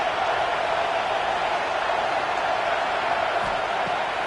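A home crowd roars steadily at an Oklahoma vs Arkansas college football game, a dense, continuous wash of cheering from a packed stadium with no clear breaks.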